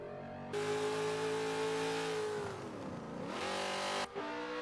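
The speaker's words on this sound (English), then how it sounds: "the first car to challenge the Ford Mustang Boss 302, was this, the 1971 AMC Javelin AMX." A 1971 AMC Javelin AMX V8 races in Forza 7, a loud sustained engine drone that holds steady, dips as the revs fall and swoop, then surges again, heard alone.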